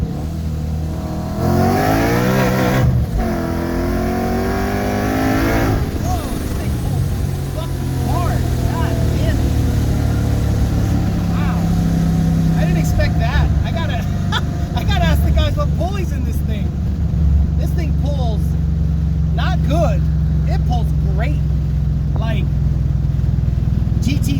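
Ford Mustang S197 with a manual gearbox and turbo accelerating hard uphill in second gear, its engine roaring loudly with rising pitch from inside the car, with a person speaking over it.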